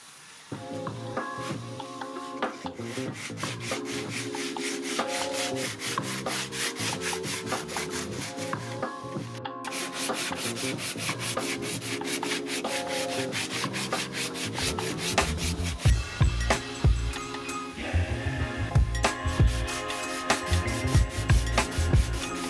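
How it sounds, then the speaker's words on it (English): Steady, continuous abrasive rubbing as rusted metal bodywork on a BMW 733i is sanded, loud and close with an even rhythm and no talk. "Get sanding."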